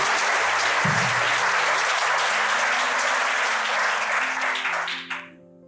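Wedding guests applaud in a loud, dense burst that carries for about five seconds, with a low hum of sustained tones underneath, then fades away quickly.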